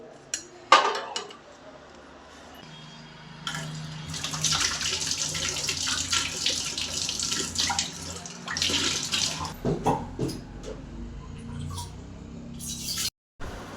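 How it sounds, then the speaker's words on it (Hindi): Dishes and utensils being washed under a kitchen tap: running water hisses steadily for several seconds while pots and cutlery clink and clatter nearby, ending with a few sharper knocks. "बर्तन वर्तन पूरा अभी रखाए हुए तो ये मतलब मैं साफ कर हूँ"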